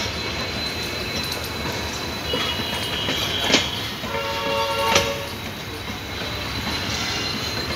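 An Intercity Express train runs on rails with a continuous rumbling roll, occasional squeals from the wheels and faint clicking, with a few brief louder screeches along the way.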